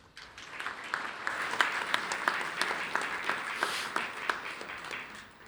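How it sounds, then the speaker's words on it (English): Audience applause rises from a graduation ceremony crowd at Borders College for the college chair, Ray McGowan, as he comes to the stage: a dense, steady wash of many hands clapping, with a few sharper claps standing out, lasting the whole stretch. "please give him a warm round of applause"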